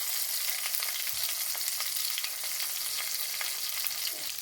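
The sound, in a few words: bay leaf, ginger, garlic, chili and cumin frying in oil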